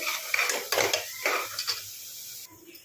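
Onion paste with turmeric frying in a pan for a cauliflower potato kurma, with repeated scraping and clinking of a spoon against the pan over a soft sizzle, then quieting near the end.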